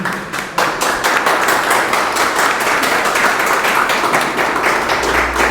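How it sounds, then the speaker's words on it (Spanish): Audience applause at a community talk, a dense steady patter of many hands clapping throughout, close and fairly loud, with no talk over it. "Nuevamente un aplauso para Nelson"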